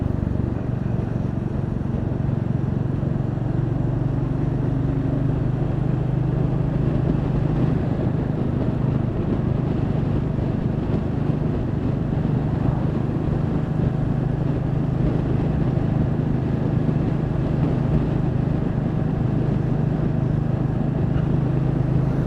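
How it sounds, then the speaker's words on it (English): Steady motorcycle engine drone from a Royal Enfield and a Kawasaki while riding, a continuous low hum with no breaks, close and fairly loud throughout. "the engine noise from both the Enfield and the Kawasaki"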